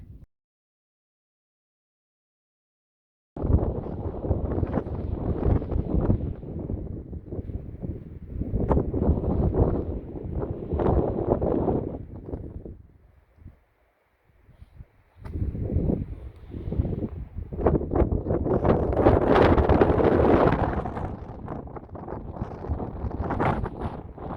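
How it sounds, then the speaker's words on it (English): Gusty, violent wind on a hike in Natural Bridges National Monument buffets the microphone in loud, roaring bursts that rise and fall, with a short lull midway and no talking. "the wind is gusty. It's actually quite violent."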